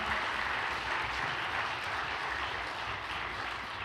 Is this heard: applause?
yes